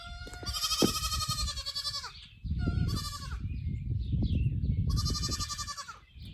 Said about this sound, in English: apparently the goats need some attention